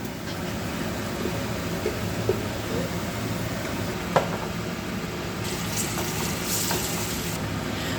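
Ginger paste and turmeric frying in a pan for a gongura chicken curry, a steady close hiss of sizzling with occasional clinks and scrapes of stirring, carrying on evenly without talk.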